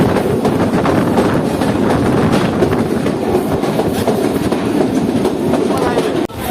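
The Mohen Jo Daro passenger train, running from Karachi to Sehwan and heard from coach 1 just behind a GMU 15 locomotive, gives a loud, continuous rumble with rhythmic clickety-clack of wheels on rails and some wind buffeting.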